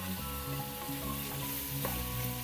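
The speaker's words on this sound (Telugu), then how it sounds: "చికెన్ అంతా ఇలా తాలింపులో వేసేసి" Steady sizzling of half a kilo of chicken frying in hot oil with tempering spices, with occasional soft clinks of a utensil stirring in the pan; no voices.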